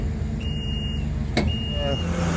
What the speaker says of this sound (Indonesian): Beginilah pergerakan mesin Asiana ini yang dikendalikan dengan menggunakan remote control. Primary crusher ini mobile.